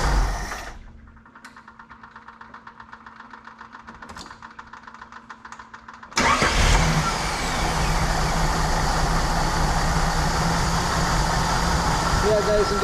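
A Jeep CJ/YJ engine ticks over evenly at idle after a hot start, its close rhythmic pulsing running steadily before a sudden louder, rougher stretch of engine noise and wind takes over.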